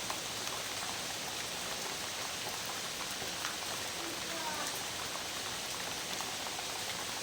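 Morning rain falling, a dense, even hiss of drops hitting surfaces that stays steady throughout at moderate, fairly close level.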